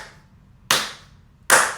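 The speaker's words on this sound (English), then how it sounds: "can we give it up a slow clap" Two slow, deliberate hand claps spaced almost a second apart, each sharp and close, ringing out alone against a quiet background.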